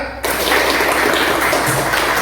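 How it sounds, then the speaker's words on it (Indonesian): A classroom of students applauds a classmate during an Indonesian lesson on international trade: dense, steady clapping starts abruptly after a brief pause and carries on evenly and close by for about two seconds. "Tepuk tangan buat Dika."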